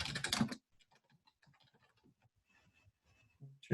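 A group name is typed on a computer keyboard as a run of soft, quick key taps, faint and close in a quiet room, bracketed by louder handling noises at the start and end.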